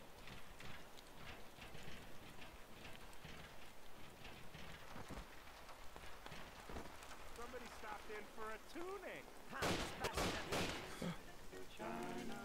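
Gunfire in the video game Mafia, scattered shots crackling over steady rain and distant rumble, with a dense burst of shots near the end.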